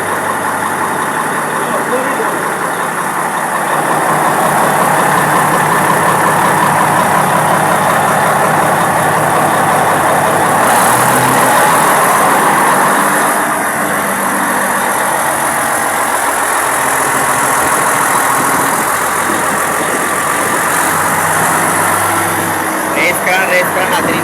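A diesel pump engine runs steadily while pumping sea sand on a Sri Lankan shore, a loud continuous droning rumble with a person talking over it throughout.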